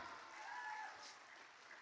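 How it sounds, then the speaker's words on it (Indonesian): An audience applauding with steady clapping, moderately loud and sustained throughout. "Tepuk tangan dulu boleh."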